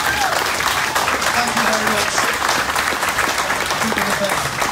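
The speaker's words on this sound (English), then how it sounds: "I think both this side and that side should give yourselves a round of applause now" A live audience at a racing driver Q&A event claps steadily in dense, sustained applause lasting the whole stretch, while someone speaks briefly over it.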